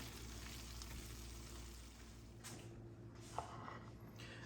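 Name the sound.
caramelized onions with balsamic glaze simmering in pan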